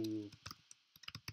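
Keyboard keys typed in short irregular clusters while writing code in a Swift playground, close and fairly quiet, following a brief spoken word at the start.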